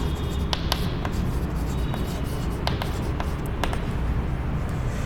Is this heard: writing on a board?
yes